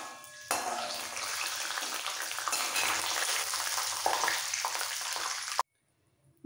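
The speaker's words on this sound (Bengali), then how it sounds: "বাদামটাকে আগে ভেজে তুলে নিতে হবে" Peanuts fry in hot oil in a pan, a dense steady sizzle close by that runs for several seconds, then cuts off abruptly to near silence.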